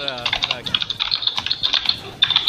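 Rapid keystrokes on a laptop computer keyboard during an online game match, a steady patter of close clicks with a short pause near the end, while people talk quietly underneath.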